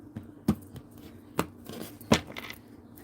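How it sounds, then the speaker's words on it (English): A deck of tarot cards being cut indoors, giving three or four sharp, close slaps and taps spaced across a few seconds over a low room hum, with no talk. "Let me cut again, because I don't know if I cut."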